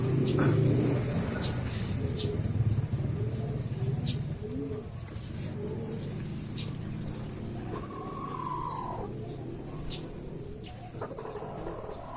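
Racing pigeons coo and flutter softly at an outdoor loft during a training release in Quezon, with occasional chicken clucks and a passing car in the background and no clear speech.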